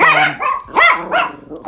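Dogs barking nearby in a few loud, yelping bursts with a whimpering edge, close up and alone without any voices.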